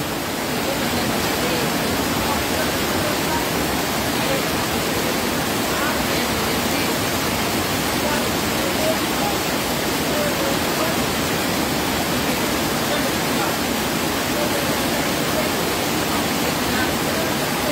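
Heavy rain pours down in a constant, loud, dense hiss that stays unbroken from start to finish.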